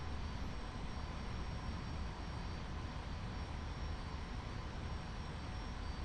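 A jet aircraft in DCS World flies over Normandy: a steady, dense engine roar holds at constant loudness throughout, with broadband rumble and no voices.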